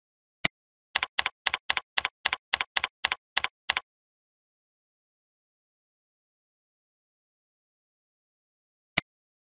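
A computer keyboard clicks out credit card details in a quick, even burst of about a dozen keystrokes, then falls silent, with single isolated key taps before and well after.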